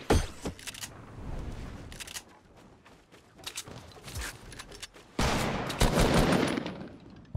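Scattered video game gunfire in an online match, sharp isolated shots and short bursts spread across quieter stretches, ending in a louder dense flurry of close firing.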